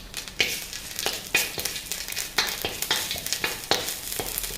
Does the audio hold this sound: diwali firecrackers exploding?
no